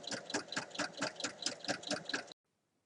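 A sewing machine topstitches folded fabric bag handles 1 mm from the edge, running in a fast, steady mechanical rhythm of close pulses before stopping abruptly, followed by silence.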